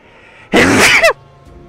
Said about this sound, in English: I feel a sneeze coming.